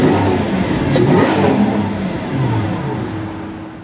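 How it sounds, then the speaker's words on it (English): A Lamborghini Aventador fitted with an exhaust tuning kit revs hard. The loud, rising engine roar runs close and alone for a few seconds, then eases off slightly toward the end. "Now there's also a new exhaust tuning kit for the Aventador"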